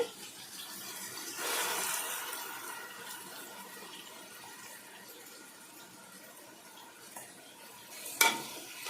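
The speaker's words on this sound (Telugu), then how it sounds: "పచ్చి వాసన బాగా పోయిందాకా వేగాలండి" Onion and tomato paste frying and being stirred in a pan for a fish curry, with a steady close sizzle, a louder surge of spattering early on and a brief sharp clatter near the end, no talk.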